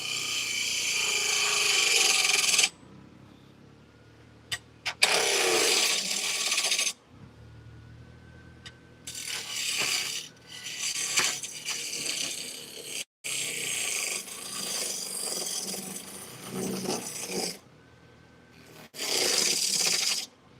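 A bowl gouge cutting wood on a spinning lathe, harsh rasping bursts that start and stop several times with quieter gaps between passes, close to the tool.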